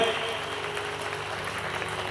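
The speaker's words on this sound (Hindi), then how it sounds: "जोर से ताली बजाओ इनके लिए।" An audience claps steadily and fairly loudly at a religious discourse gathering, a dense sustained round of applause with faint crowd murmur and no clear speech.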